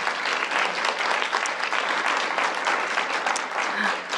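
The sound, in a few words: audience applause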